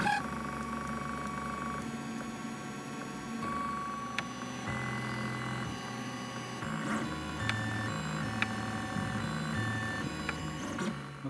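Steady stepper-motor whine and hum of a 3D printer printing a 20 mm test cube, with shifting tones and occasional short beeps and clicks, no voices.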